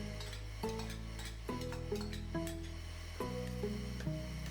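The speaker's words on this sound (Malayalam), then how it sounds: "പച്ചമുളകിൻ്റെ പച്ച വിട്ട് കഴിഞ്ഞാൽ സവാളയും ചെറിയ ഉള്ളിയും ചേർത്ത് കൊടുക്കണം" Onions and shallots frying with green chillies in oil, a steady sizzle broken by repeated stirring scrapes and clinks of a utensil against the pan, close and fairly quiet.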